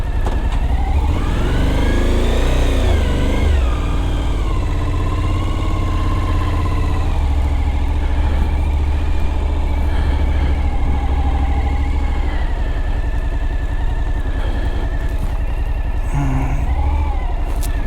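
Cars on a road heard up close, a steady engine drone with rising and falling revs as vehicles move along and pass, loud and continuous throughout.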